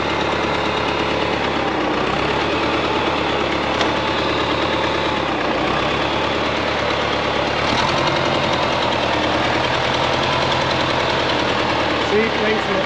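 A 1960 International 460 tractor engine running at idle, a steady close-up chugging knock with a continuous mechanical rattle, while people talk intermittently over it.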